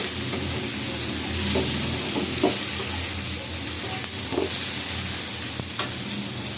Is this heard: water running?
no